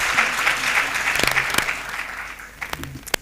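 Audience applauding a minister at a science event, a dense burst of clapping that thins out, with a few sharp knocks and faint voices near the end.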